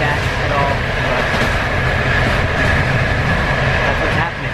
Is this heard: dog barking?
no